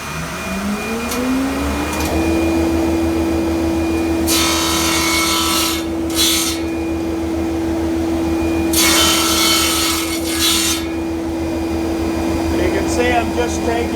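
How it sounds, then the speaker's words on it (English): Carbide band saw guide material being cut on a VFD-driven radial arm saw, a steady machine whine with a sustained tone and two bursts of harsh cutting noise, loud and close, with no talk. "I like to cut it on the radial arm saw."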